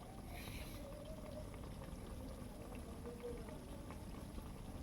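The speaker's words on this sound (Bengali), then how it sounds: "গ্যাসটিকে একদম কমিয়ে রেখেই তা ভাজতে হবে।" Langcha sweets sizzle gently in oil over a very low gas flame, a steady soft bubbling and fizzing with no voices.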